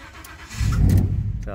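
A Ford F150 engine cranks and starts normally, a low rumbling catch that rises quickly and settles into a steady idle, heard up close.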